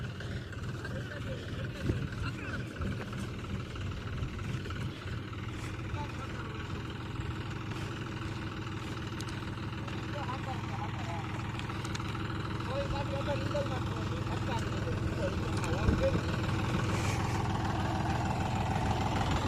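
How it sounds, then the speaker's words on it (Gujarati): A tractor engine rumbles steadily at a low idle some distance away during maize sowing in a farm field, with voices speaking intermittently over the drone. "જાય આપણું ટ્રેક્ટર હાલે હે"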